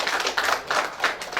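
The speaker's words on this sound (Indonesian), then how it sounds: "Beri tepuk tangan untuk kita." Audience clapping at a Gerindra party PIRA organizational orientation event in Malang, East Java: a short burst of mid-distance handclaps swelling in uneven waves, no talk over it.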